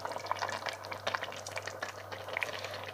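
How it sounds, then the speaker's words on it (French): Cream thinned with cornstarch is poured into a simmering pot for papet vaudois, giving a soft, bubbling liquid gurgle with small splashes and drips over a low steady hum, faint and close, with no talking. "maintenant on va ajouter notre crème qu'on a donc délayée avec la maïzena"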